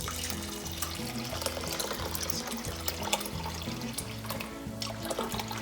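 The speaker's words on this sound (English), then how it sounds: "we're going to cover it with boiling water" Boiling water pours over rice in a bowl with a teaspoon of salt, a steady close trickle and splash of liquid running for several seconds, heard alone.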